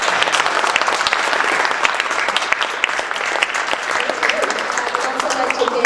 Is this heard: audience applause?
yes